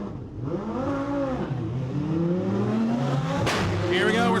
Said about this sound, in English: watch the Lamborghini in the furthest lane as he makes history